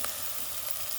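Onion frying in a pan for caldereta, a steady close sizzle filling the short moment with no voices.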